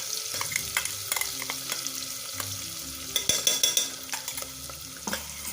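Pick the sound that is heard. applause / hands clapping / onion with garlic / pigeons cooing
onion with garlic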